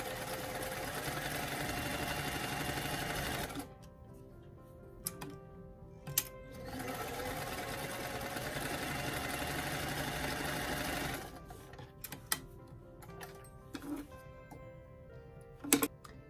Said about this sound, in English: we're going to go ahead and run a zigzag stitch on the raw edge of the sleeve cuff